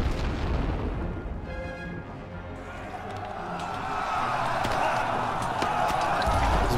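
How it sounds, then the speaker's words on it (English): Mortar shells explode in the World War I game Elite Great War Western Front, with deep rumbling booms and blasts rolling on continuously in a dense, loud battlefield mix. "I can't believe these aren't being damaged by these mortars."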